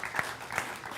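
Brief burst of audience applause at a Hindi poets' gathering, a few scattered claps over a soft crowd wash, fairly quiet and alone.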